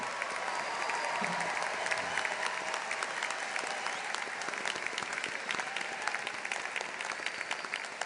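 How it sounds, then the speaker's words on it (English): A large audience applauds graduates at a university commencement ceremony, dense, even clapping sustained throughout and heard from a distance. "Let's give these graduates another round of applause as well."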